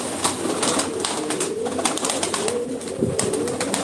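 Pigeons coo softly and repeatedly, their low throaty murmurs layered over one another against a busy background.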